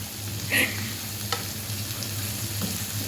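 Chicken wings stir-fried in a pan with onion and tomato give a steady low sizzle, with a few brief stirring clinks and scrapes rising over it.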